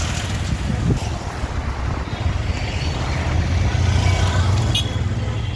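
Road traffic in Manpada rumbles as a continuous low drone of passing vehicles, heavy and close, with wind buffeting the microphone throughout; nobody speaks.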